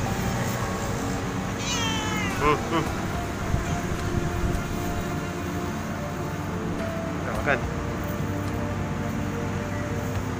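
A cat meows a couple of times, short rising calls over a steady hum of background noise, with a person talking nearby.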